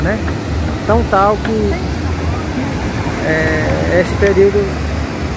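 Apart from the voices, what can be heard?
waterfall at Cachoeira do Urubu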